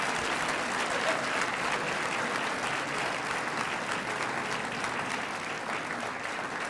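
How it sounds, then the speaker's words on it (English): Audience applause fills a girls and women in sports luncheon after an athletics director is introduced, a dense, steady wash of clapping that holds evenly throughout with no voices on top. "Could you continue your applause so it doesn't get awkward? Keep applauding, please."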